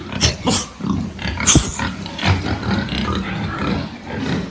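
Pigs of fast-growing breeds in a fattening pen grunt, snort and squeal continuously, a close, loud, overlapping jumble of rough animal sounds.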